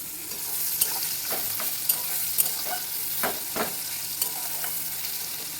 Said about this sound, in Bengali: এই যে পেঁয়াজ আর টমেটো এখন ভাজা হচ্ছে